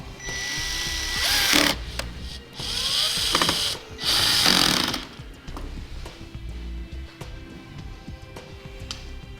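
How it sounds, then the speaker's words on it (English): A power tool driving fasteners into a 2013 Fiat 500 bumper fascia during a trailer hitch install, with three loud whirring bursts close by, then quieter clicks and handling noise. "we'll go ahead and reinstall the fasteners to secure it"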